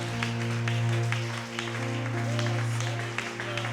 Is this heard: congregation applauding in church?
yes